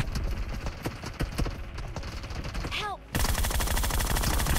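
Rapid bursts of gunfire from enemies holding hangars in the PUBG Mobile shooter game, dense overlapping shots cracking in quick succession, loud and continuous, with a brief lull before a heavier wall of fire.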